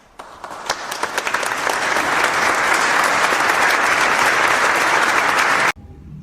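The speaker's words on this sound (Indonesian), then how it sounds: "Kita beri aplaus kepada dua kelompok yang sudah presentasi hari ini." A classroom audience applauds for two student groups after their presentations, a steady burst of clapping by many hands that builds quickly, holds for several seconds, then stops abruptly.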